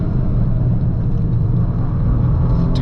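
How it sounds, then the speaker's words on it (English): A 2024 Toyota GR Corolla driven hard through corners gives a steady, loud low engine and road rumble from inside the car, with no speech. "It just grips up and slings around the corner."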